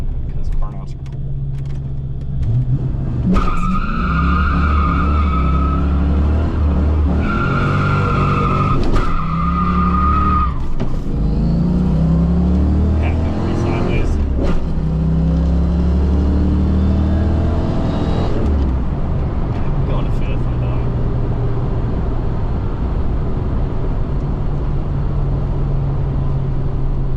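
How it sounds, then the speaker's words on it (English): A 5-liter Ford Fox Body car does a burnout, engine roaring and tires screeching in long loud bursts with rising revs, close up, heavy rumble throughout, and voices talking over parts of it. "since I'm a child, I'm gonna do a burnout because burnouts are cool."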